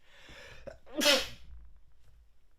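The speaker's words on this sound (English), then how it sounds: "I'm going to sneeze." A single sharp sneeze bursts out near the mic, preceded by a short inhaled breath, then quiet room tone.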